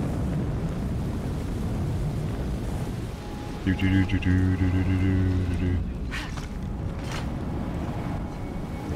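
A gust of wind in Shadow of the Tomb Raider blows as a steady broad rush, with a brief rumbling surge midway and someone talking over it.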